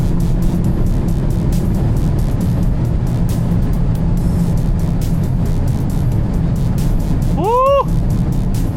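Volkswagen Golf GTI running flat out near its limited top speed of 267 km/h, a loud steady engine and road roar filling the cabin, with a brief rising whine or horn-like tone near the end.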